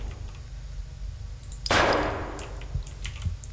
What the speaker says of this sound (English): that's a pretty cool reload animation